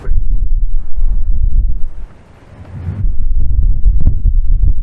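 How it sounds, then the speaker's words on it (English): Strong wind buffets the microphone on the Cornwall coast path, a loud low rumbling roar that eases briefly mid-way before gusting back up, with no talking. "the wind is still present"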